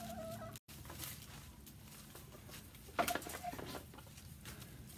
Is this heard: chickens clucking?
yes